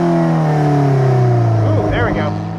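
A 2016 Alfa Romeo 4C accelerates hard out of a corner on a track, its engine loud and steady from inside the cabin with a rising pitch, while someone talks over it.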